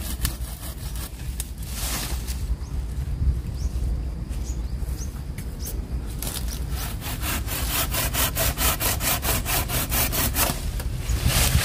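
Steady hand-sawing through an avocado tree trunk, cut about one meter above the ground in a garden, with rhythmic rasping strokes that quicken toward the end, close and loud with no talk.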